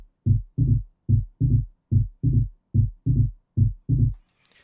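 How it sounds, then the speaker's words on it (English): Short, almost percussive wavetable bassline from a body bass patch in a hardgroove techno track: ten punchy low plucks in a steady rhythm, loud and dry, alone with no talking. "For the sound I used wavetable and this patch called body bass."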